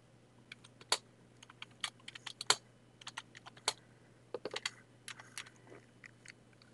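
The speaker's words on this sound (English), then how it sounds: "I'm going to start typing the name of the song" Typing on a computer keyboard while entering a song name in Microsoft Word: irregular bursts of close, crisp key clicks with short pauses, over a faint steady hum and no talk.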